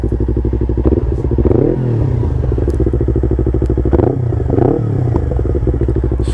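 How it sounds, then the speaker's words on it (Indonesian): Motorcycle with a large, long touring silencer revving in two smooth blips over a steady idle, the engine note rising and falling close by without talk. "Suaranya halus sih, tipikal silencer besar panjang."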